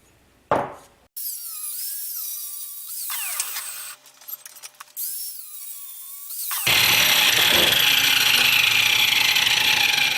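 A power tool cuts pieces of metal angle stock in half for a Polaris RZR radiator relocation, whining loudly with shifting pitch through bursts and pauses, then grinding in a sustained, harsh, steady roar to the end.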